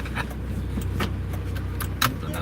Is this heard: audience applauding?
no